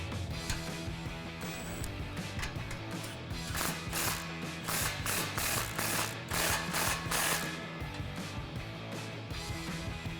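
A ratchet with a 16mm socket tightens an exhaust clamp on a RAM 1500 dual exhaust, giving rapid close clicking pawl strokes in repeated bursts over a low background hum.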